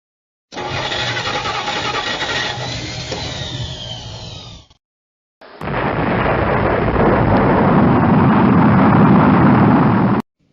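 A cartoon rocket wagon engine fires up in two loud bursts of roaring, rumbling thrust split by a brief silence, the second blast longer and steady until it cuts off abruptly.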